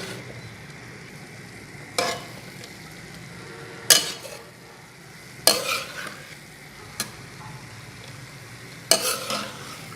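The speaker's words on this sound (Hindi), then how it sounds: "अब मुसलसल चम्मच हिलाते हुए" Grated carrot halwa cooking down in a large pot while a spoon stirs it continuously, a soft sizzle throughout broken by several sharp metallic scrapes and clinks of the spoon against the pot.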